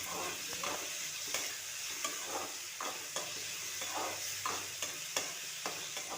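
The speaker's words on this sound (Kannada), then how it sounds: "ಟೊಮೆಟೊ ಕೂಡ ಚೆಂದಾಗೆ ಎಣ್ಣೆಗೆ ಸಾಫ್ಟ್ ಆಗೋ ತನಕ ಫ್ರೈ ಮಾಡ್ಕೋಬೇಕ್ರಿ" Finely chopped tomato fries in oil for a ridge gourd sambar, a soft steady sizzle punctuated by regular scraping stirs, fairly quiet and close.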